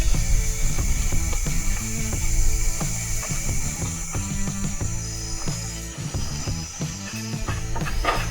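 Ratchet clicks as a modulator is tightened into a Ford C4 automatic transmission valve body during final assembly, a run of short mechanical clicks close by under steady background music.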